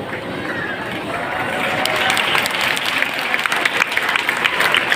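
A crowd at an evening gathering claps loudly for an attorney, the applause building in the first seconds and then holding strong and steady to the end.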